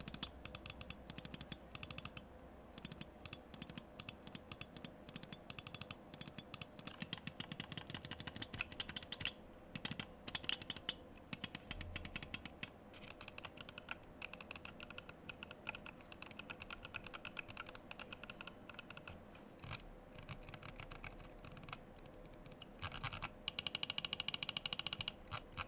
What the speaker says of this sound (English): very impressive clicks among the mouse, very spammable and really light and just enjoyable clicks